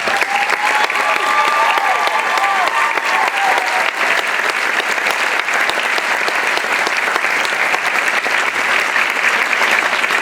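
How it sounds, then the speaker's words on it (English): A school winter band concert audience claps in sustained, dense applause that stays loud and even from start to finish, with a few brief cheers near the start. "Give him a round of applause."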